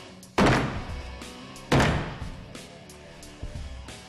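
A Cold Steel Recon Tanto fixed-blade knife is driven into an army flak vest, giving two heavy, close thunks about a second apart followed by a softer thud, with no talking.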